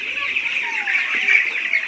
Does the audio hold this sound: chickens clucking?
yes